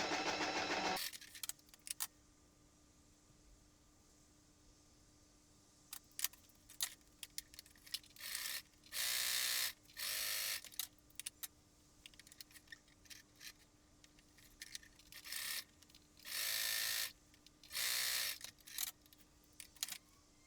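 A sewing machine stitching darts on a jersey dress runs in short, whirring bursts of about a second each, separated by quiet pauses and small clicks of fabric handling.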